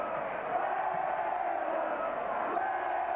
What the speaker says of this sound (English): Crowd calling for Wynnum as Gene Miles takes it on the halfway mark